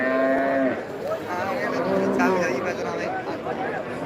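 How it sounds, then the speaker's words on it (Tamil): Cattle at the Karimangalam cattle market moo in long, drawn-out calls, several in a row at close range, over a background of crowd chatter and people talking. "இன்னைக்கு இந்த மாடுகள்லாம் பார்க்கறது பேரும் அரிதா போயிடுச்சு"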